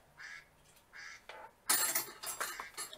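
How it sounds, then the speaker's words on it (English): A phone gives short, sharp duck quacks indoors, two separate calls followed by a louder, rapid burst of quacking close by. "Why is my phone quacking?"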